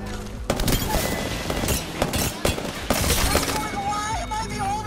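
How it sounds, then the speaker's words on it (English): Sustained bursts of gunfire in the battle royale shooter Apex Legends, dense overlapping shots and sharp cracks fired in rapid volleys close by, continuing nonstop with a player talking underneath. "Why am I the only one getting shot at?"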